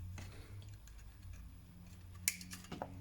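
A wire inside a Honeywell portable heater is snipped with a cutter, giving a sharp, close click and a couple of smaller snaps over quiet room tone.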